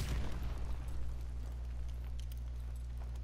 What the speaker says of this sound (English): grenade going in